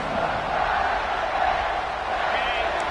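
Football stadium crowd at a Notre Dame vs Michigan game roaring steadily through a late fourth-quarter defensive play, a dense, sustained wall of cheering without letup.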